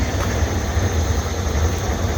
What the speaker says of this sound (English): That is them cutting through the rock to get internet out here.